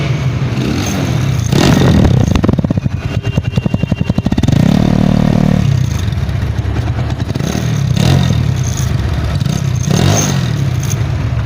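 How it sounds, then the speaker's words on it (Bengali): A Runner Bolt 165cc motorcycle starts and runs close by, with a steady low engine rumble, a few rev swells and some mechanical clatter. It plays alone, with no talking. "বাইকটা আমি স্টার্ট দিচ্ছি।"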